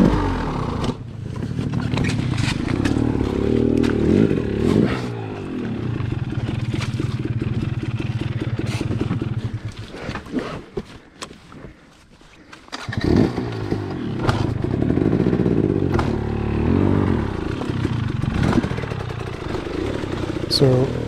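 Motorcycle in deep mud being kickstarted, with repeated kicks and engine sputters, rough revving that cuts out midway, then fires again, loud and close, mixed with scraping and a voice talking over it.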